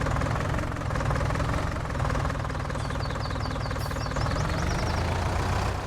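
Tractor engine in Farming Simulator 19 running steadily while driving around a farm, a continuous low rumble with constant loudness and a brief high twittering sound partway through.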